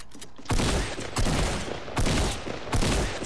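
Gunfire in a shooter game, heard as four loud, evenly spaced bursts of rapid shots, each a sharp crack with a booming tail, close and clear with no talk over them.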